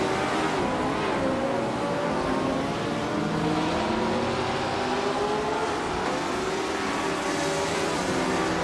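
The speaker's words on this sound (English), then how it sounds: "F1 1960 cars on this 4-km charade track are making for a tight race with lots of close battles" Vintage 1960-era Formula 1 race cars in a racing video game, battling closely on a 4-km Charade circuit, their engines droning and whining together in a dense, continuous roar with shifting pitches as the pack runs wheel to wheel.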